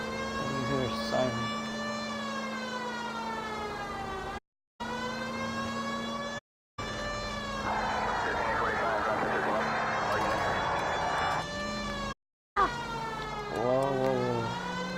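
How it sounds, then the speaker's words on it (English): Police car siren in the video game L.A. Noire, a loud wailing tone rising and falling continuously with brief dropouts, under engine rumble and a voice talking. "Call out where you hear a siren."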